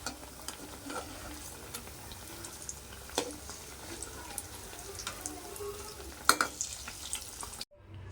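Sweet corn vadas fry in hot oil with a steady, low sizzle and bubbling, broken by occasional clicks and taps of a utensil, fairly quiet and close, ending in brief silence.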